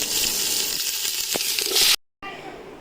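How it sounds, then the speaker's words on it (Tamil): Whole biryani spices frying in hot oil and ghee for a hotel-style chicken dum biryani: a loud, steady, crackling sizzle with a small clink partway through, then a brief cut and a softer sizzle. "எண்ணெய் காஞ்சதை பிரியாணி ஐட்டம் பூரா அதில் போட்டுங்க. அது பொரிஞ்சோடனே வெங்காயத்தை போட்டுக்கலாம்."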